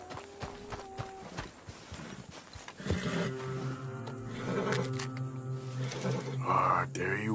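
Horse in the Red Dead Redemption 2 video game, with a high whinny rising near the end over steady hoof clip-clop and game ambience; someone talks in the first seconds.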